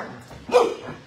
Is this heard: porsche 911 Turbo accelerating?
no